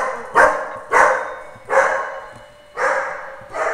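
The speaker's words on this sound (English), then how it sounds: "That, everybody, is my dog." A dog barks sharply five times at a doorbell, loud and close, with irregular gaps between the barks and a faint whimpering tail after some of them.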